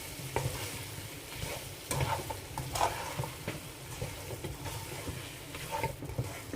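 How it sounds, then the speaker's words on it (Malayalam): Masala and chicken for fried chicken biryani being stirred and sautéed in a pan: steady close sizzling with repeated scraping strokes of a spoon against the pan, no talking. "മസാലയായിട്ട് നന്നായിട്ടൊന്ന് മിക്സ് ചെയ്യാം രണ്ട് മൂന്ന് മിനിറ്റ് നന്നായി ഒന്ന് വഴറ്റിയെടുക്കാം"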